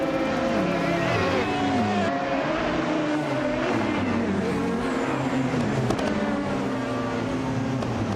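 Race cars roar off the line at the start of a racing video game set at Highlands Motorsport Park, engines droning loud and constant with shifting pitches as the pack surges, a voice commentating over them.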